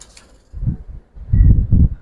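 Giribaz pigeons cooing close by, soft low throaty coos in two or three short bursts separated by brief pauses, fairly loud against an otherwise quiet background.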